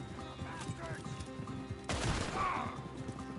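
Gunfire in a Red Dead Redemption shootout, a burst of shots around the two-second mark loud over music and commotion, with a horse whinnying and hooves nearby.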